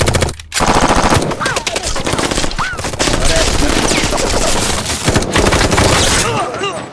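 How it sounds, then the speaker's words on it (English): Machine guns roar in a film scene of the Punisher, loud sustained bursts of automatic fire rattling almost nonstop with a couple of brief gaps, shouted voices mixed in. "Guns blazing."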